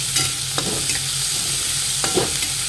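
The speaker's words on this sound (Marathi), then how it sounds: "कांदे आपले छान फ्राय झाले" Onions frying with salt in a pan, a steady close sizzle broken by a few scraping stirs of a spoon, with no talking.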